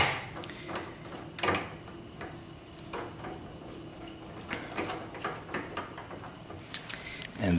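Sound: inserting 1.25-inch adapter into telescope

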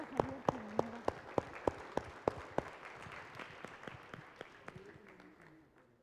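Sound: audience applause

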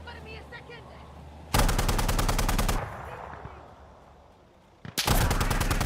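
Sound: gunfire in video game Insurgency Sandstorm

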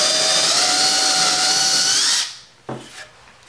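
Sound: power drill drilling wood

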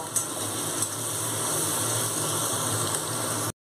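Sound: onions frying in oil until brown

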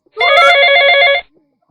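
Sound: telephone ringing in a radio play

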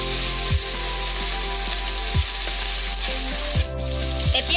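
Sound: singhara fish frying in hot oil in a wok

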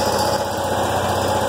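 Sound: John Deere 212 tractor engine idling

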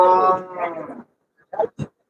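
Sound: cow mooing at cattle market

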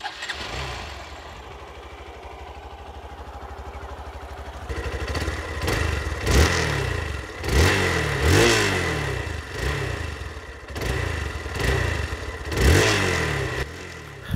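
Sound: Hero Xpulse motorcycle engine revving

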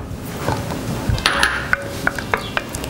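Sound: stirring simmering shrimp rissole filling in a pot

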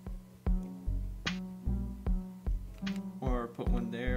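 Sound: Minecraft note block music with piano, from a video game

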